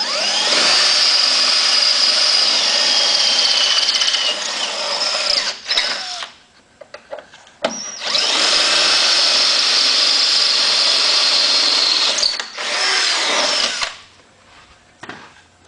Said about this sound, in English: then we'll take the drill and proceed to drill the bottom holes